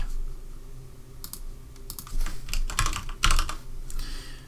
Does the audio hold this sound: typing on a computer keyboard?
yes